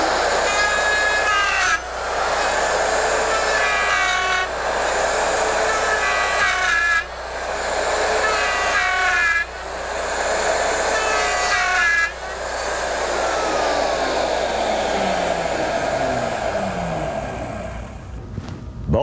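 A router cuts a joint using a Porter Cable Omnijig: a loud, whining motor runs in several repeated passes, each a few seconds long with brief dips between, then spins down to silence at the end.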